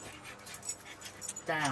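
Pet dogs whimper and whine softly in short, high, broken bursts at close range indoors, followed by a brief jingle of tags, with a person speaking over them.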